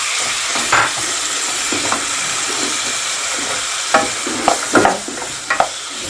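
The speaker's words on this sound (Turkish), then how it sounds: "Biraz kavuracağım, hafiften kavuracağım." Diced beef sizzles and crackles in a hot pot, with a steady frying hiss and occasional sharper pops and scrapes of stirring, no voices.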